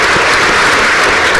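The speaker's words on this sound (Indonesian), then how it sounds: "Kita tepuk tangan ya." Studio audience applause on a televised talk show, a loud, dense and even burst of clapping with no voices on top.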